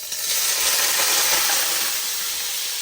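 Diced ham sizzles steadily and loudly in a hot pan, a dense, continuous hiss of frying that holds for the whole stretch with no voices over it.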